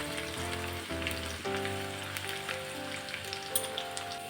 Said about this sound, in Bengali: রসুনটা একটু লাল করে ভেজে নিতে হবে